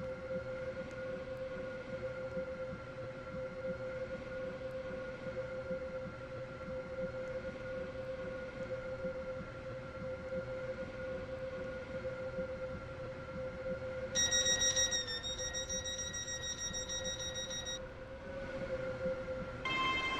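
A steady electric train hum in the Roblox game Stepford County Railway runs throughout with a constant whine, joined near the end by a brief high-pitched tonal chime or horn.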